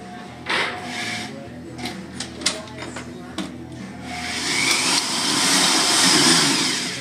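A drill bores slowly into a pilot hole in Warmboard radiant heat subfloor, starting with a few short bursts and grinding clicks and then rising to a louder, sustained whirring spin.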